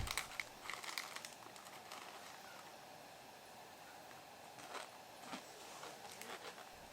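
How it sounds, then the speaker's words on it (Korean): A snack bag is torn open at a quiet night-time solo campsite in the mountains: a few soft, crinkly plastic rustles near the start, then sparser crackles against a faint, still background. "과자 봉지 뜯는 소리도"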